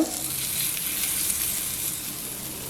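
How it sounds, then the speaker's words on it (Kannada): Hot oil tempering with chana dal crackles and sizzles steadily over a green amaranth-stem leaf chutney paste, loud and close and continuous throughout, with no talking. "ಇದ್ರ ಮೇಲೆ ಈ ಒಗ್ಗರಣೆ ಮಾಡಿರುವಂಥದ್ದು ಹಾಕೋಣ"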